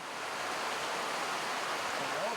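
A creek rushes steadily past the deck behind a mountain lodge, giving a continuous broad wash of flowing water close by, with a faint voice briefly audible near the end.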